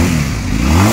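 A motorcycle engine runs loud and close, a steady throaty rumble rising slightly in pitch.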